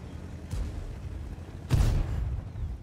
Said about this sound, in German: Ja, Schüsse gehen daneben oder bouncen.